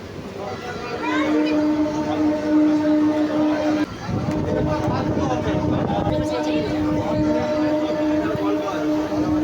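A train carries passengers on a ride toward Simlagarh station, giving a continuous rumble with a steady drone and a brief break near the middle, and people talk over it throughout.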